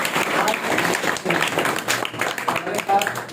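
Applause from an audience at a martyrs' memorial day event held on a commerce and arts academy campus in Bikaner, clapping steadily for the full stretch with a presenter's voice heard over it.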